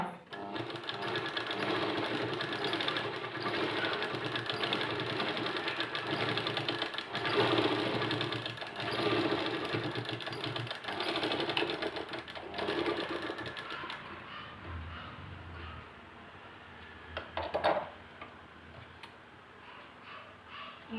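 A sewing machine stitches a pair of children's pants being altered at the waist, running steadily and loudly for about fourteen seconds before stopping, followed by quieter handling sounds of the fabric.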